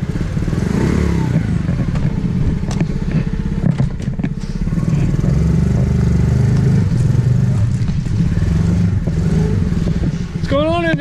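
An old Harley-Davidson motorcycle engine runs steadily on a ranch on a cool day, a low continuous rumble filling the clip, with someone talking over it and a brief high whine near the end.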